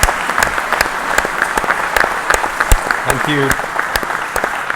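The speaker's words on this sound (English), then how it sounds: "Guys, I think we should give a round of applause to all three." An audience gives a round of applause for three speakers at a coral-keeping talk event. The clapping is steady and fairly loud and carries on throughout, while a voice speaks briefly over it.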